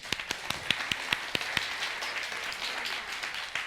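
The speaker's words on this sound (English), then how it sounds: "Now clap your hands." A church congregation clapping hands together, a run of sharp rhythmic claps in a fairly quick, even beat that soon blends into looser, softer applause, heard from a moderate distance in a reverberant room.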